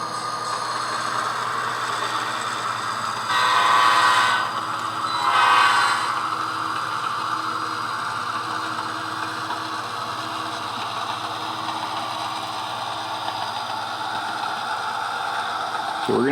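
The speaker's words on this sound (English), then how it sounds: "that was our switcher back there making a lot of noise" A model railroad switcher locomotive runs with a steady mechanical hum, sounding two short horn blasts partway through, with faint voices in the background.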